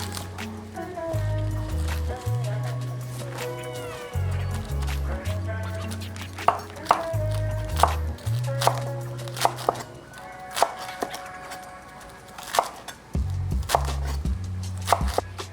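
A knife chopping antipasto salad ingredients on a cutting board, sharp repeated chops in quick bursts close by, with background music underneath.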